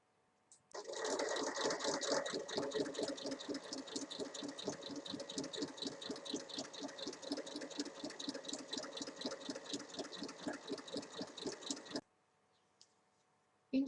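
A sewing machine stitches a 1 cm seam on a tote bag, a rapid, even mechanical rattle running steadily for about eleven seconds before stopping abruptly, close and alone without talk.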